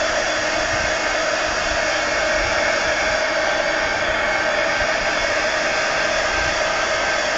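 A hair dryer blows steadily on a drawing on paper, a loud, constant close-up whoosh of air that holds an even level throughout with no pauses or talking.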